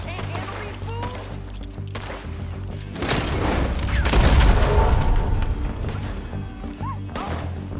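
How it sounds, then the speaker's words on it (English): Gunfire and heavy impacts in the Western video game Red Dead Redemption 2, a loud burst of shots and crashes swelling midway over a steady game soundscape, with no talk heard. "told you I could shoot a gun, didn't I?"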